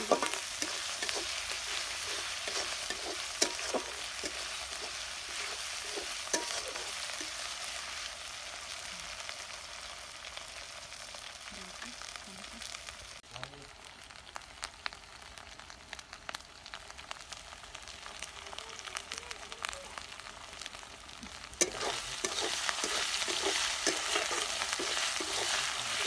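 Onion with ginger-garlic paste frying in hot oil, a steady close sizzle with intermittent scraping and stirring of a spatula in the pan, continuing for a long stretch without talk.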